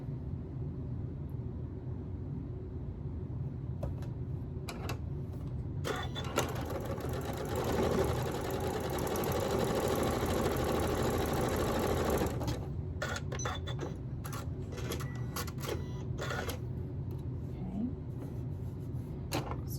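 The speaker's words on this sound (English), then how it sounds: "So now I'm going to sew those two center pieces together." A sewing machine stitches the two center pieces of a Yankee Puzzle quilt block together, running in a steady close whir for several seconds, with scattered clicks and fabric handling before and after.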